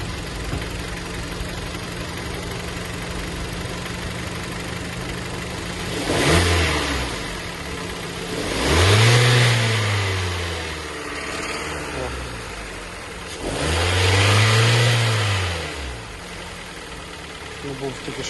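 A Kia Sportage 2012 engine idles, then revs up three times in separate bursts toward 2,500–3,000 rpm, each swelling and falling back to a steady idle.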